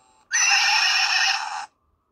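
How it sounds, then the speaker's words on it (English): Electronic horse neigh from a Hornit Mini bike and scooter horn, one loud buzzy burst of about a second and a half starting and stopping sharply. "Horse."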